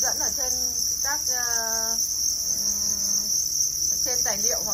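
Crickets kept at a breeding farm chirp close by in repeated bursts of trills, over a steady high-pitched insect drone.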